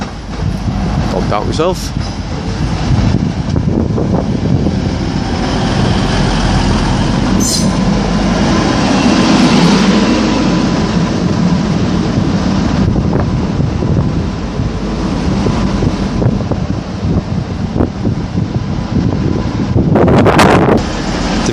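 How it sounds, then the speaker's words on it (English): A Class 185 diesel multiple unit at Liverpool South Parkway station rumbles steadily and loudly for the whole stretch, with wind buffeting the microphone and brief talk over it. "formed of the usual 185 DMU, one of the most underrated powerful DMUs I think"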